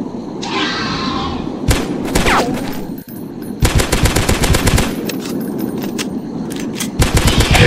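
Rapid gunfire from a dinosaur hunting video game, with dense bursts of automatic shots, loud booms and thuds following one another closely across the whole stretch.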